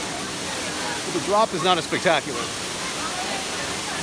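A waterfall in El Yunque rainforest, Puerto Rico, gives a steady broadband rush of falling water that continues throughout, with a person briefly talking over it in the middle.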